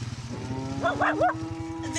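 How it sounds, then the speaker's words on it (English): Cows in a field moo several times in a short, close cluster of low, drawn-out calls over a steady engine-like rumble. "a ton of cows in the field"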